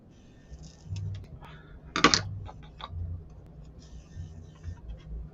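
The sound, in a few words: whittling wood with scissors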